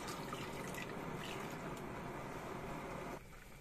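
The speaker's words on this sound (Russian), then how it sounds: "Я наливаю воду." Water poured into a cauldron holding chicken wings: a steady, faint splashing pour that stops abruptly near the end, with no talk.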